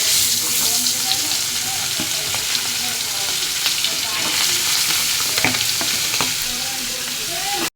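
Poa fish frying in hot oil with onion, garlic, turmeric and chili powder, a loud, steady sizzle with occasional crackles and pops throughout, no talk.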